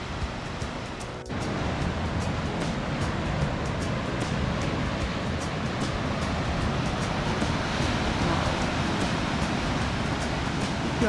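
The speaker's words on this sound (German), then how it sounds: "Das Meer ist schon gewaltig." Steady, powerful roar of Atlantic surf at Finisterre, Spain, washing continuously, a broad rushing noise with no voices and only slight swells in intensity.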